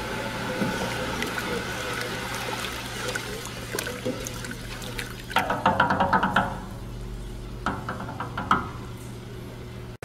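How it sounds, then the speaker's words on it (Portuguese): Sugar syrup for orange preserves bubbles and simmers in a pot at a steady boil, with soft popping and gurgling, close by, plus a few knocks of a utensil against the pot. "Nossa calda já está fervendo"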